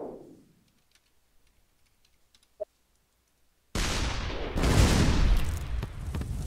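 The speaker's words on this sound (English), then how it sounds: "I'm going to shoot a moon down there and see if I can hit somebody" A moon weapon shot lands in the ShellShock Live video game: after near silence and a faint blip, a loud, sustained explosive roar erupts and rumbles on to the end.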